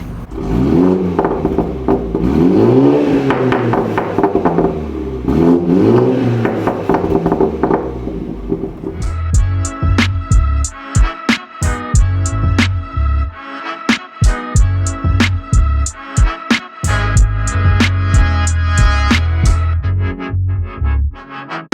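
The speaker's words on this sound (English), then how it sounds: "To test the burble settings we added to this, we want to make sure the engine's warmed up" A BMW 330i (B48 engine) with downpipe exhaust and Stage 2 tune revs and drops back repeatedly, with sharp pops and crackles from the exhaust between bursts, loud and close, no talking.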